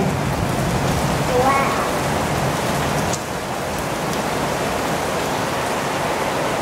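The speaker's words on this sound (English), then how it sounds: "It's raining." Pouring rain in the evening, a loud, dense wash of drops hammering surfaces nearby, continuous throughout, with a short dip partway through.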